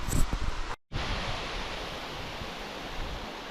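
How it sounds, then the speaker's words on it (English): Steady broadband rush of water tumbling over rocks below a dam, constant and fairly close, with a brief dropout near the start. "this is under the dam where the water's kind of cascading down the rocks"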